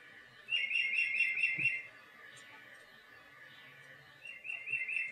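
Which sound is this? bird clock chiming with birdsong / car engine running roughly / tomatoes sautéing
bird clock chiming with birdsong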